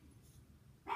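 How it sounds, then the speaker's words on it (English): A single dog bark near the end of a short, quiet stretch, fairly close and moderately loud. "I'm sorry if you hear my dogs barking."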